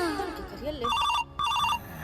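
A telephone rings in two bursts of trilling electronic tones, loud and close, with a short gap between them and a voice speaking just before.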